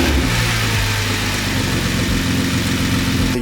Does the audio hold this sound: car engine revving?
yes